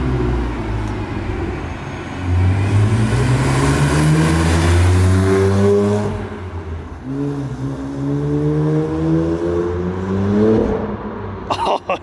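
BMW 335i with its N54 engine and new VRSF exhaust, revving loudly and close up, the deep drone rising and falling in pitch through long sweeps as it accelerates repeatedly, with a brief voice near the end.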